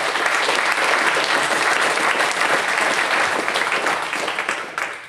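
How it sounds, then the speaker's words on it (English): An audience at a conference keynote claps steadily for about five seconds, a dense sustained applause that tapers off at the end. "So applaud yourselves for the great job that you did on this."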